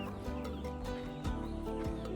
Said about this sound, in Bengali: যেখানে ঘাস দেওয়া হলো এখনই তারা এসে খাচ্ছে একদম অর্গানিক মুরগি